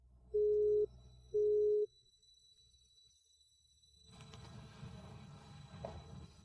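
Two steady electronic tones from a telephone ring back in a call signal, each about half a second long with a short gap, followed by faint rustling room noise.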